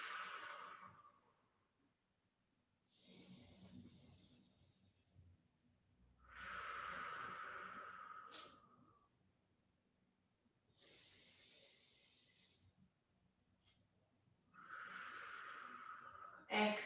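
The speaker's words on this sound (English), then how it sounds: "Take about 3 more deep breaths." Slow deep breaths during a floor exercise session, five long airy inhales and exhales separated by pauses, close and fairly soft.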